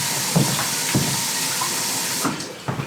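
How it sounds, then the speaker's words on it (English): A kitchen tap runs in a steady stream as a few dull knocks and clunks sound nearby, and the flow eases off near the end. "Let me turn that water off."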